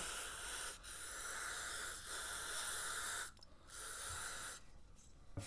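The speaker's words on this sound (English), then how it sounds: "We're going to go ahead and spray it on the inside." A steady, loud aerosol hiss of intake cleaner sprayed inside a Harley front master cylinder, almost continuous, broken by brief pauses, then fades in and out near the end.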